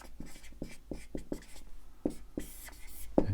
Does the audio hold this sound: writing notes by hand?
yes